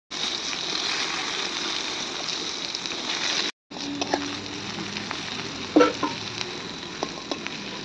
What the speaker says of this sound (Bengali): আর এদিকে দেখো পটলটাও ভাজতে দিয়ে দিয়েছি।